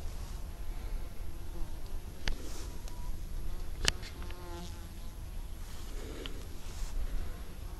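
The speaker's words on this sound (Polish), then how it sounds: "Jak kwitnie, to dosłownie pszczoły się o niego biją." Bees swarm around blooming globe thistle flowers in a garden, a steady close buzzing hum with occasional individual insects passing louder near the listener.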